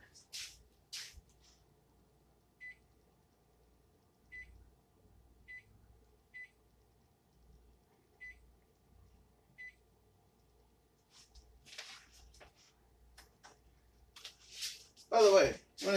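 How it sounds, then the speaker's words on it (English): Short, faint beeps from a microwave keypad come one by one as the timer is set in a kitchen, among soft handling noises, followed by a burst of louder shuffling at the end. "I walk over to the microwave and set the timer."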